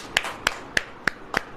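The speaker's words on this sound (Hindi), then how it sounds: "ताली बजाइए पहले" Five sharp hand claps at a steady, slow rhythm, each a crisp broadband smack, fairly close, separated by quiet room sound, the last one doubled; part of a religious sermon gathering.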